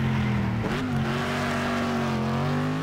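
Racing car engine in the Next Car Game driving game, a steady loud drone with a brief dip and shift in pitch partway through, then holding a sustained revving note alone.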